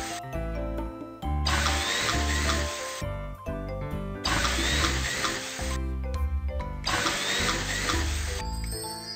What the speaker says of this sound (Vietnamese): Đầu tiên, khoan một vài lỗ trên mặt băng.